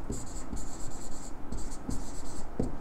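Marker or chalk writing on a board during a chemistry lecture, a run of short scratchy squeaking strokes in quick bursts, close and clear with room noise underneath.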